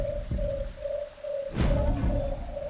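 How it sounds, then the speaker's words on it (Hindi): A bird coos steadily in a forest, a low, hollow tone repeating in even phrases over a faint background, with a brief rustling burst partway through. "ये पक्षी तो निशाचर पक्षी नहीं?"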